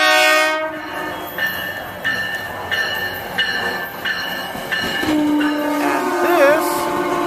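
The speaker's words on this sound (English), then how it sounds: "is Manassas Line train 338 en route to Washington, D.C." A Virginia Railway Express commuter train on the Manassas Line rumbles past close by at Manassas Station in the evening, horn sounding in repeated short blasts, followed by squealing wheels and a rising whine.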